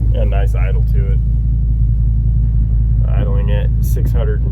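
Low, steady idle of a 1965 Ford C850 truck engine, an even rumble throughout with someone speaking over it at the start and again near the end.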